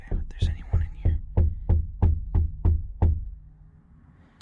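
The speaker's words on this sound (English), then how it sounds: "He's literally knocking on my truck." Someone knocks on a truck about ten times in a steady rhythm, the dull, hollow thuds ringing on the body, then the knocking stops and leaves a quiet tail with faint whispering.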